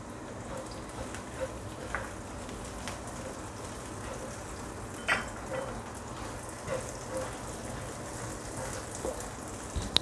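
Stink beans (petai) fry in a pan with shallots and garlic for a home stir-fry, giving a soft, steady sizzle with scattered crackles and faint stirring scrapes, fairly quiet and with no talking.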